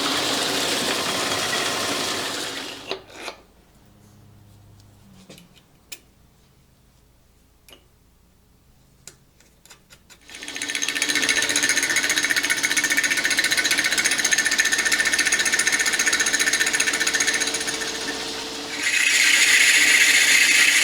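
A metal lathe turning down a part into a mandrel runs with a loud steady whine and rattle, stops for a quieter stretch of faint ticks, then starts up again and runs continuously.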